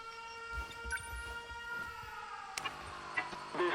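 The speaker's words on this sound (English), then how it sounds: "The sirens. This is bad." Air raid sirens wail in the video game 13 Sentinels, sustained tones holding steady at moderate loudness with a few sharper hits and shifts partway through.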